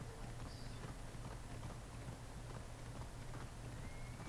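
A horse galloping in Assassin's Creed Odyssey, faint rhythmic hoofbeats over a low steady hum, quiet and continuous throughout.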